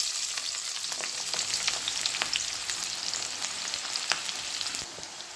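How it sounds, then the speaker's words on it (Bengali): Onion and slit green chillies fry in hot oil, a steady bright sizzle with scattered crackles and pops, close and continuous with no talking. "তেলেতে পেঁয়াজ আর কাঁচা লঙ্কা চেরা একটু দিয়ে দিচ্ছি।"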